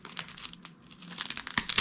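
Close-up crinkling and rustling of wrapping paper from an art-supply package being unboxed, in irregular bursts, growing louder and crisper toward the end, with no talking.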